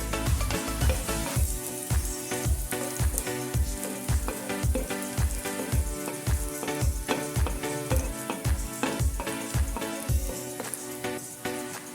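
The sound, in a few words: chopped garlic and curry leaves frying in oil in a pan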